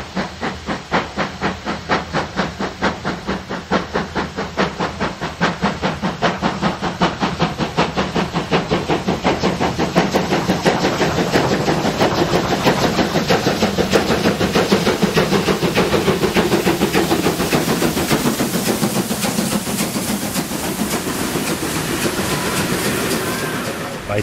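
Steam locomotive 41 360 departs Altenberge station with loud, rapid steam chuffs and hissing, a steady pulsing exhaust that holds strong throughout, close and powerful.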